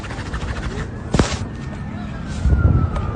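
Emergency vehicle sirens wail faintly in the distance amid a chaotic scene with vehicles on fire, under steady background noise with one sharp bang partway through.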